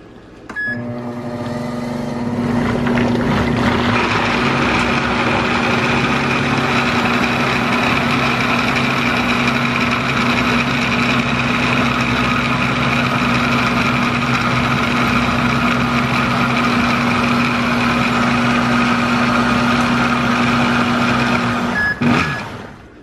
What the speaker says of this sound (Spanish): vamos a licuar todo muy bien